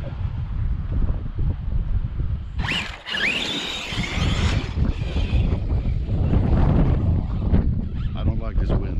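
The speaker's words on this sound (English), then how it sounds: "I don't like this wind." Wind gusts across an outdoor gravel-pit RC track, producing a loud, low buffeting rumble against the microphone, with a brief high squeal partway through.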